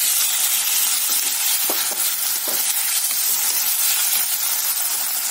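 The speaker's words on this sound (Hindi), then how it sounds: "अब मैं इसमें डालूंगी टमाटर," Tomatoes sizzling in hot oil in a pan for fasting-style sabudana khichdi, a continuous close hiss with a few soft stirring knocks.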